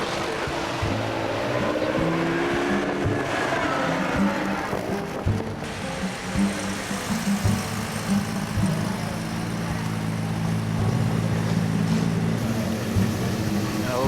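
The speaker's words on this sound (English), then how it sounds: "Camaro." A classic Chevrolet Camaro at a local classic car show in Tokyo, its engine rumbling continuously with people talking nearby.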